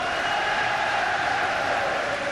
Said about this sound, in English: And listen to the crowd, unbelievable.